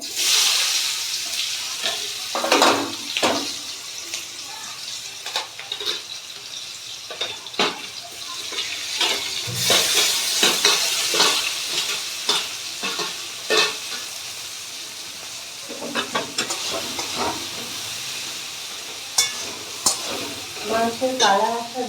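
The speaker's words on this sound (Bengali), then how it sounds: "সাদা জিরে ফোড়ন দিয়ে দিলাম পেঁয়াজ কুচিগুলো দিয়ে দিলাম" Whole white cumin seeds and chopped onions fry in a pan for a Bengali chicken curry, giving a steady sizzle with repeated stirring scrapes and clinks throughout.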